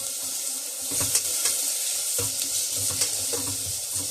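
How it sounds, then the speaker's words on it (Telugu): Oil sizzles steadily in a pan while bottle gourd and moong dal ingredients are fried, a close, hissing crackle that runs throughout, with a few soft stirring scrapes. "వేసి బాగా ఫ్రై చేయండి."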